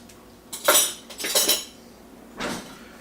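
Metal cutlery clinks and rattles close by as a spoon is picked out, in three bright bursts of jangling contact separated by short quiet gaps.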